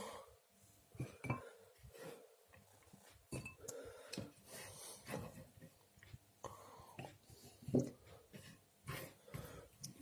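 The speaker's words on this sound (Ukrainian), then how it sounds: "засипаємо у наші глачки моркву." Carrots dropped into small clay pots in a home kitchen, quiet scattered clinks and taps from the pots and utensils, with a few soft thuds and a cough amid low background.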